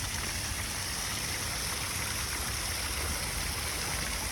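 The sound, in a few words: small waterfall at a hotel in Maspalomas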